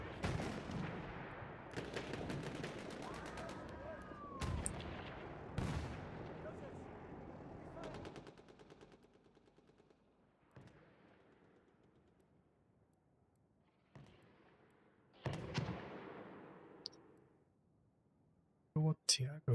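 Bursts of gunfire and heavy booms from a Divisions Incursions 5v5 match between the Automatic Mustangs and Stormtiger, loud and close at first, then sparser and fainter shots with quiet gaps.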